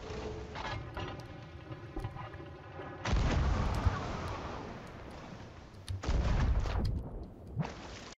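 Cannon fire in the pirate video game Sea of Thieves: a couple of heavy, booming blasts ring out close by, each rolling into a long rumble over the game's ambient background.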